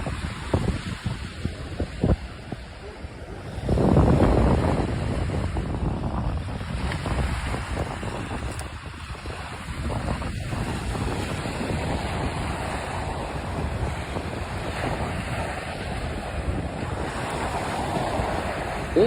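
Ocean surf rolls in steadily at Fortescue Beach in New Jersey, with continuous wash and breaking waves. Heavy wind buffets the microphone and a louder surge comes in after a few seconds. No voices are heard.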